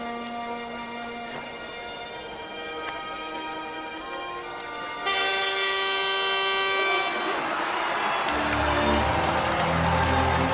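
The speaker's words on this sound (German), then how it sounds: "Ich pfeife auf diesen Zug" A train sounds in a busy station setting, with a loud horn-like toot whose sustained tones swell midway, followed by rumbling and hissing as the rail cars get moving.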